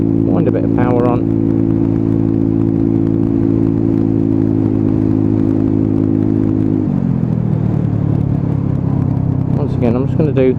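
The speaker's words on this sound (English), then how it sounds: "Little purr from that engine, and scorpion can again. Noisy." A Royal Alloy GP125 scooter with a Scorpion exhaust can holds a loud, steady engine note while riding, then drops in pitch as the throttle eases, with brief bursts of talk at the start and end.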